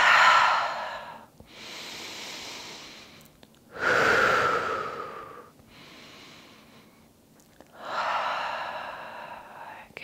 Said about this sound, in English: Take a few rounds of breath.